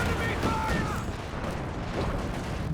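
Artillery fire from a Soviet 152 mm gun in the strategy game Company of Heroes 2: a dense, continuous rumble of booms and battle noise that stays steady and loud, with chatter audible underneath.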